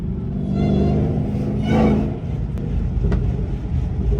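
Dodge Hellcat SRT with a supercharger, driven at night in traffic: a steady low engine rumble with a rising whine and a brief swell of revs near the middle, then two short sharp ticks.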